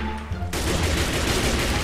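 Gunfire from zombies in Minecraft, a quiet lull suddenly broken by a dense, loud burst of rapid shots that keeps going as a continuous volley.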